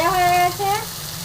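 Bata fish fry in hot oil as they are flipped in the pan: a close, steady sizzle with a brief tonal, voice-like sound early on that fades after about half a second.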